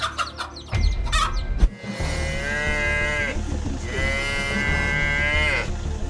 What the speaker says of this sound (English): The calf's cry attracted the lion's attention.